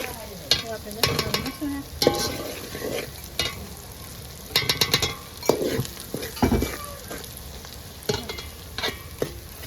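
Chicken curry with turmeric and red chilli being stirred in a pan: a spoon scrapes in irregular bursts over a soft, steady sizzle, with occasional light clinks against the pot.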